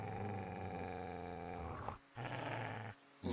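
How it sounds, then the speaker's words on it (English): A deep, rumbling dog growl in Kingdom Come: Deliverance 2, held steadily, then broken into two short bursts with brief silences between, close and fairly loud. "Alright, what are you growling at?"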